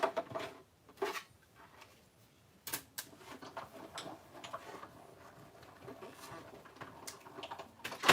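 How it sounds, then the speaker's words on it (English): A crafting machine processes a stamped card with quiet mechanical ticks, clicks and whirring bursts at irregular intervals, faint and close. "let me run this through my machine real quick, and then we'll finish this card"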